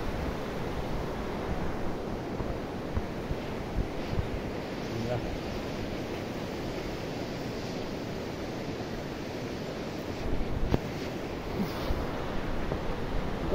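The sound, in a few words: river water flowing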